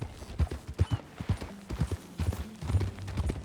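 Horse hooves clip-clop at a walk on a dirt path in Red Dead Redemption 2, a steady uneven rhythm of close, moderately loud thuds.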